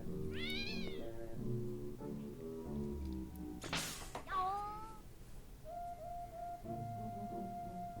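A cartoon cat meows a few times in the video game Pac-Man 2: The New Adventures. The quiet, rising and falling cries sit over soft game music and effects.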